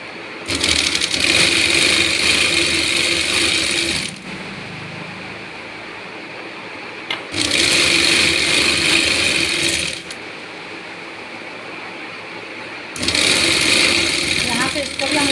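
Bursts of a sewing machine stitching a Rajputi suit, each a loud, steady mechanical whir lasting a few seconds, separated by quieter pauses.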